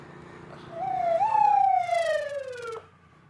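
An emergency siren arrives at a vehicle accident scene, a single rising and falling wail that swells loudly and then breaks off, with no voices over it.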